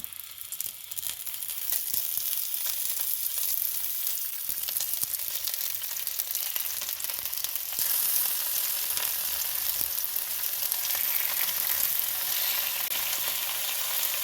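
Cabbage-wrapped momos fry in hot oil in a wok with a continuous, dense crackling sizzle that swells slightly partway through and carries on evenly, with no voices.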